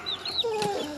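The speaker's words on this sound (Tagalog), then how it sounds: "hindi po ordinaryong manok yan, ano, heritage" Heritage chickens on a small farm clucking and calling close by, a quick run of several short, rising and falling clucks over a faint background, with no talking.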